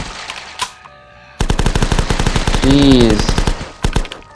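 Rapid SMG fire in a zombie survival video game rattles in loud, tightly spaced bursts after a short pause, with a brief exclaimed word from a player over the shooting.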